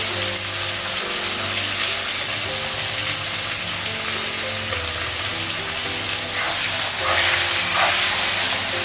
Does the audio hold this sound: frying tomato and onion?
yes